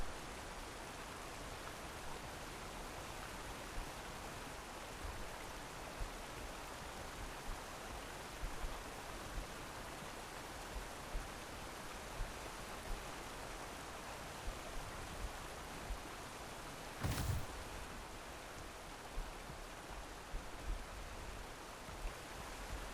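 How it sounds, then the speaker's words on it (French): Waterfall cascades in the video game The Isle, a steady, faint rushing wash of falling water that runs unbroken throughout, with one brief soft thump near the end. "il y a un enchaînement de cascades de malade ici"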